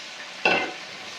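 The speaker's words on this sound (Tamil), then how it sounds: "எல்லாத்தையும் நான் நல்லா எண்ணெயில் தாளிச்சிட்டு" A sudden loud sizzle as onion, ginger and garlic hit hot oil, hissing briefly and then settling into a softer crackle, heard up close.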